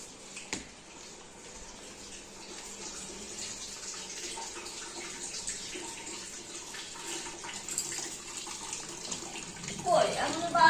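Tap water runs steadily into a bathtub as it fills, a continuous wash of splashing that grows a little louder near the end, with a voice talking faintly over it.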